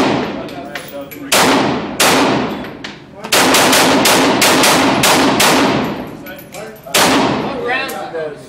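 Rapid 7.62 rounds fire at a shooting range in loud, sharp bursts and single shots, close by and echoing, with pauses between strings and some voices in the background.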